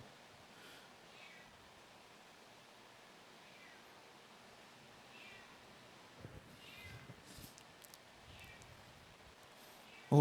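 A cat meows faintly and repeatedly in the background over a low room hiss, the soft calls spaced out and distant, with some brief rustling toward the end.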